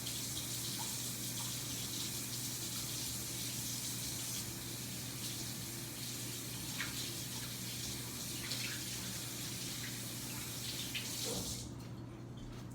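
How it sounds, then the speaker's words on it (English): Kitchen tap running steadily while hands are washed, a continuous close splashing hiss that stops abruptly near the end. "Wash your hands again."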